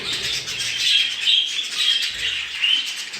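Budgerigars chirp and chatter continuously in a busy, bright stream of high warbling calls, fairly close, with no talking.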